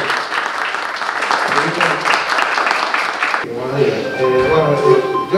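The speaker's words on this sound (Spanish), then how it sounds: "Y un aplauso para todo el personal del hospital" A crowd applauds loudly for several seconds for hospital staff, then the clapping gives way to a voice speaking over a noisy room.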